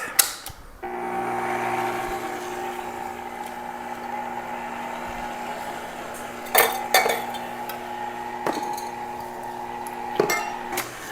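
Brioche dough ingredients get lightly mixed in a bowl, with a utensil clinking and scraping against the bowl in a few sharp, close knocks over a steady background hum.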